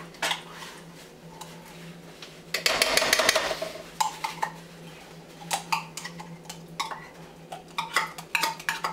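A big spoon stirring tomato paste into a sloppy joe mixture in a pot: repeated close scrapes and clinks against the pot, with a denser burst of scraping near the middle, no talk.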